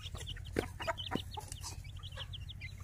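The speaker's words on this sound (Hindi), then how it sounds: "जी मुर्गियां भी हमने छोड़ दी" Chickens clucking close by, a busy overlapping series of short clucks and chirps from several birds, moderately faint over a low steady hum, with no voices.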